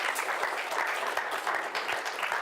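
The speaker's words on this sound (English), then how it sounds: "give him a round of applause" Steady applause from a crowd, dense rapid clapping sustained throughout at an even, fairly loud level.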